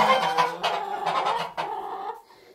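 Farmyard hen clucking close by, a few loud, rapid clucks in short bursts, with no other voices.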